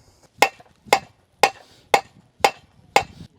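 Blacksmith's hammer drawing out a hot railroad spike at an Appalachian craft event, seven sharp ringing strikes in a steady rhythm roughly half a second apart, fairly close and alone.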